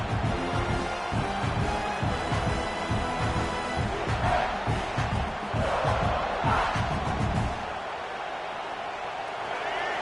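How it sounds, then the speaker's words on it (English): A big stadium crowd at a Baylor vs South Carolina football game roars loudly and continuously, with swelling shouts and cheers, easing off slightly near the end. "Listen to this crowd just shaking the girders of this place, trying to help their defense."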